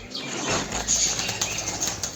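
A burst of wings flapping close by as several pigeons take off, a rapid fluttering rush that continues in uneven beats.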